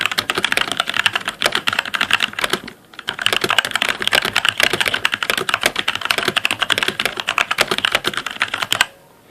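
Rapid, continuous clacking of a MotoSpeed CK104 mechanical keyboard being typed on close by, with a brief pause early on and the keys falling silent at the end.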